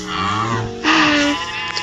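Sheep bleats from Minecraft, a few wavering cartoonish bleats in close succession, loud and clear with no talking over them.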